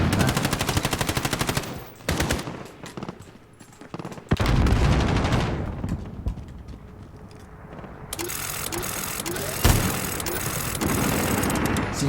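Minigun fire in Call of Duty Modern Warfare Survival mode against armored targets: long, loud continuous streams of rapid automatic shots broken by short pauses, with mechanical whirring and engine-like rumble between bursts.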